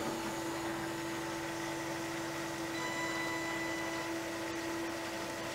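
A CNC machine driven by servos cutting at one millimeter depth gives a steady, continuous mechanical hum with a strong sustained tone and even noise throughout, close and unchanging, with no voices.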